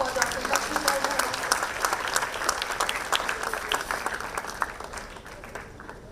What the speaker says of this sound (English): Can we have a round of applause for Dr. Lakshmidhar Behera?